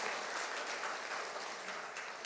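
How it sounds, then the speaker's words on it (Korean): A church congregation claps together during a worship service, producing a steady, even wash of applause from many hands that continues without pause for a couple of seconds at moderate volume. "같이 한번 우리 박수 한번 할까요?"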